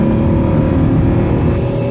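Jeep 4.6 stroker engine fitted with a Supertrapp 4-inch diffuser exhaust, a loud, close, deep steady drone and rumble under throttle with no pauses and no talk.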